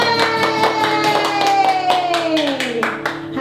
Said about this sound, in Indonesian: Ya kita beri tepuk tangan dulu ya buat Tuhan